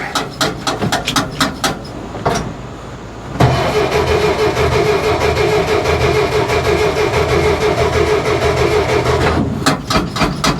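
A 1949 Willys engine, choked, cranks in rapid rhythmic bursts without catching. A short pause follows, then a long steady grinding crank, and then more quick chugging turns at the end, loud and close.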